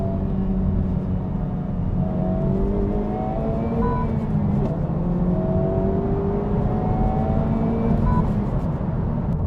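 A 2023 Honda Civic Type R engine revs as the driver downshifts to second gear, heard from inside the car. A loud, steady engine drone rises and falls in pitch over a deep rumble, with no voices.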